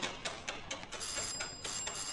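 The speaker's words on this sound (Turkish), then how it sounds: "Bu saatte kapı çalınır mı böyle?" A doorbell rings late at night in a quiet home, several short repeated trills at moderate distance with no talking.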